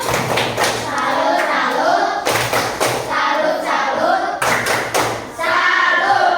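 A school class performs the tepuk salut clapping chant, with three bursts of rhythmic group clapping and children's voices chanting along, each burst separated by a brief pause.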